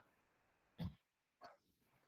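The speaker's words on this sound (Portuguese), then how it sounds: "Estão fazendo barulho lá fora e meu cachorro fica agitado aqui dentro." A pet dog indoors gives two short, sharp vocal bursts about half a second apart, nearby and fairly loud against a quiet room, with no talk over them.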